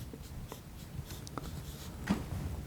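A pen or marker writes out an equation in quiet, scattered scratchy strokes, faint and close, with a few short taps and a slightly stronger stroke near the end.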